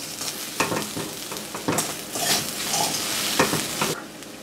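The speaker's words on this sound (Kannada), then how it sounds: "ಇದನ್ನು ಒಂದ್ಸಲ ಮಿಕ್ಸ್ ಮಾಡಿಬಿಡಿ" Raw banana plantain palya is stirred in a pan over a low flame, with soft sizzling under several distinct scraping sweeps of a spoon across the metal.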